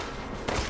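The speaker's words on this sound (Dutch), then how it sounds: "Oké, we moeten hem neerknallen. Oké, knal hem in zijn hoofd." Gunfire from the horror video game Resident Evil Village, a short burst of booming shots blending into a loud, dense game soundscape with no talking.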